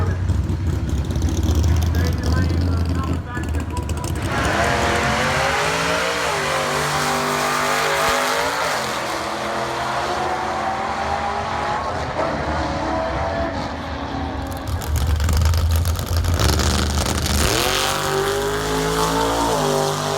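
Nostalgia pro stock drag racing cars at a Friday night test and tune on the 8th Mile drag strip in Orangeburg, loud engines roaring and revving up in pitch as cars launch and pass, with a voice heard under the noise.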